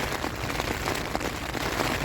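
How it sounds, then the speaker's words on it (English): Steady, dense rain beats on a Hilleberg Soulo tent during a wet, windy solo wild camp. The pattering hiss is loud and close, fills the whole stretch without a break, and no one speaks. "I've just had the outer door open and just rain's just coming straight in"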